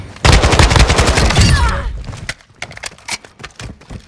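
Video game gunfire bursts out in a loud, rapid automatic volley, then gives way to scattered sharper single shots and clicks, with brief voice sounds in between.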